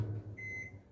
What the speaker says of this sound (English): our water is boiled, as you can hear by the microwave sound